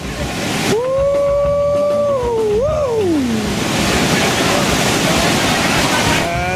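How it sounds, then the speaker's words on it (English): A white-water raft drops over a large rapid waterfall: broad, steady roaring rush of water throughout, with a rising and falling whistle-like tone early on and some distant voices in the mix. "As upstream, we got Chris, our last raft, getting ready to drop this big old waterfall."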